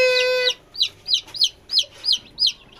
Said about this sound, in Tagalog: Ayan yung mga manok nila dito.